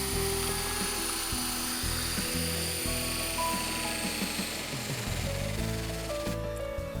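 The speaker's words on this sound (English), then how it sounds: "Large helicopters like this T-Rex 600 can be very frightening the first time you fly one." A large T-Rex 600 radio-controlled helicopter flies close by, its rotor and motor producing a loud, steady, buzzing whine with shifting tones as the motor speed changes, heard alone throughout.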